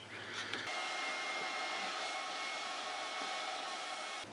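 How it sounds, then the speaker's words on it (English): A shop vac runs with a steady, close, high-pitched whine, sucking debris out of the gas tank of an old Husqvarna lawn mower, with a brief rattle near the start and no talking. "I'm just going to use my shop vac here to suck that crap out of the tank"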